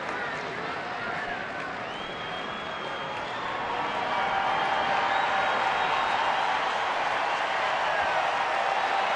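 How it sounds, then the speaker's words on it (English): A baseball stadium crowd at a 2009 Cleveland-at-Detroit night game with about 24,000 fans sends up a steady, distant roar of cheering that swells louder midway, with a commentator talking over it. "Crowd getting back into it now."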